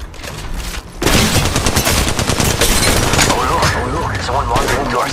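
Video game gunfire starts abruptly after a quieter second, then rapid automatic shots crack continuously and loudly while a voice talks over the firing.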